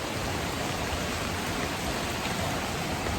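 Heavy monsoon rain pours down in a small town in Kerala, a dense, steady hiss of water with no pauses, loud and close throughout.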